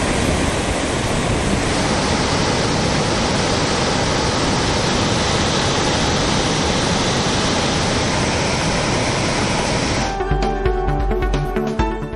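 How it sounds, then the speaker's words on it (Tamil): Swollen Thirparappu waterfall pours down in heavy flood flow, a dense, steady, close roar of crashing water that fills the scene for about ten seconds before abruptly thinning near the end. "திற்பரப்பு அருவியில் தண்ணீர் ஆர்ப்பரித்து கொட்டுகிறது"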